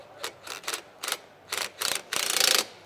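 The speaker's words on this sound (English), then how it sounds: "just grab your impact and just tighten these up a wee bit." Several short bursts from an impact wrench snugging down bolts on a lower door kit for a Polaris RZR 1000XP, starting as brief separate pulses and ending in a longer sustained rattle, fairly close with no talking.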